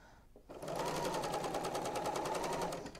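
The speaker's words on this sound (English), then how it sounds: "We're going to sew. All the raw edges are at the top of the block." A serger runs a seam on a quilt block with a fast, steady mechanical whir, close and continuous after a brief quiet start.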